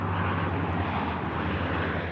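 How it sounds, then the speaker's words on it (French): A red and yellow Canadair firefighting water bomber flies over the lake at Gérardmer, its propeller engines producing a loud, steady drone throughout the brief pass. "Survol de l'avion rouge et jaune des pompiers au-dessus de Gérardmer."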